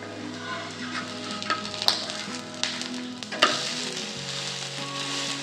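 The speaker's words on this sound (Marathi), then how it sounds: "आपण दुसरी बाजू पण तूप टाकून छान भाजून घेऊ।" Sweet potato feni sizzling in ghee in a pan over a low flame, a steady soft crackle with a few sharp clinks and scrapes of a utensil stirring or turning it.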